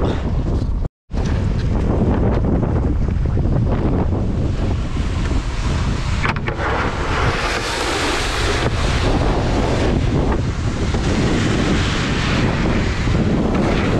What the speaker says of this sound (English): the wind was strong enough to blow it over